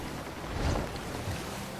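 Ship sailing on open sea in the pirate game Sea of Thieves, a soft steady wash of waves and wind with a faint swell in the middle, low and ambient without voices.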